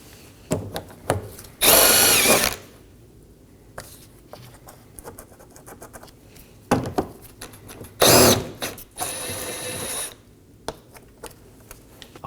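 Power tool spinning off plastic 12mm nuts from a rear panel on a 2018-2024 Toyota Camry during trailing arm replacement: two loud whirring bursts among clicks and handling knocks, close by, with no voices.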